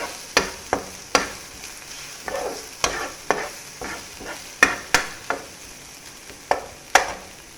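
Ginger and garlic sauté in a pan for fish podimas, a quiet sizzle under a regular series of sharp spatula scrapes and taps, roughly a dozen strokes in quick rhythm.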